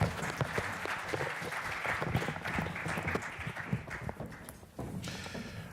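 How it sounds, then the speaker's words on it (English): Audience at an education panel discussion applauds the departing panel, a steady mid-level wash of many hands clapping that continues throughout, with a brief dip near the end. "A round of applause for them, please."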